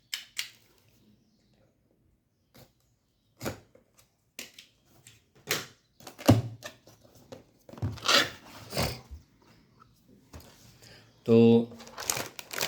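Sealed retail box of an ASUS GTX 1650 4GB Dual OC graphics card being opened, with close, intermittent crinkling and tearing of packaging in short bursts, a louder rustle near the end, alongside someone speaking.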